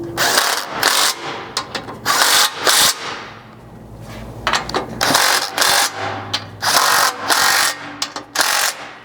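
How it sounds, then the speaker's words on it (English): Bursts of a 17 mm ratchet or power driver tightening four factory skid plate bolts along the front edge of a 4th gen Toyota Tacoma, repeated loud whirring spurts separated by short pauses, close and without talk. "finish off your install with a 17 mil to tighten those 4 factory bolts along the front edge"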